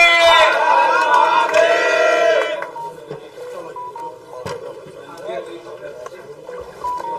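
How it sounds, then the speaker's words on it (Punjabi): A crowd at an Akhil Bharti Shiv Sena gathering raises a loud unified chant of Jaikare Veer Bajrange that fades after a few seconds into a low murmur with scattered noise. "ਇੱਕ ਵਾਰ ਜ਼ੋਰ ਦੀ ਤਾਲੀਆਂ ਮਾਰੋ ਵਿਨੋਦ ਜੈਨ ਜੀ ਲਈ ਤਾਲੀਆਂ ਜੈਕਾਰੇ ਵੀਰ ਬਜਰੰਗੇ"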